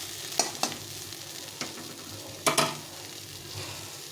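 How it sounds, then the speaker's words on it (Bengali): Chickpeas are fried without water in a pan for a chaat snack and stirred now and then; a soft, continuous sizzle runs underneath a few sharp scraping strokes of the spoon against the pan, close by, with no talking. "এইভাবে ভালো করে ভাজতে হবে কিছুক্ষণ ধরে, বেশ কিছুক্ষণ ধরে ভাজতে হবে।"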